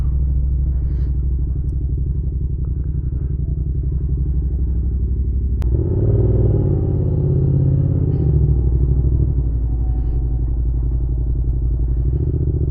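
Yamaha MT-07 motorcycle with a one-finger clutch mod and light throttle spring, its engine rumbling steadily up close, then surging louder as the bike takes off and pulls away, with no talking.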